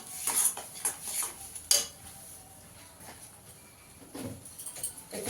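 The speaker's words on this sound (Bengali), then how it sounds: "ছানাটাকেও ভালো করে মিশিয়ে নেবো এর সঙ্গে" Chhana being stirred into a drying filling for stuffed kakrol in a pan, heard as scattered clinks and scrapes of a utensil against metal, close and moderately loud, without talk.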